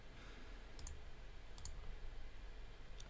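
Sharp computer mouse clicks, a quick double click near the start, another pair about a second later and a single click near the end, over a steady low hum in a quiet room with an offline PC.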